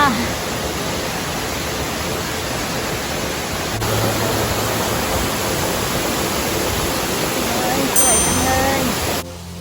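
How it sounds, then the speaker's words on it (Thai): Waterfall beside a mountain hiking trail, a loud, continuous broadband rush of falling water that stays steady and close from start to finish. "เราเจอน้ำตกอีกแล้วจ้า"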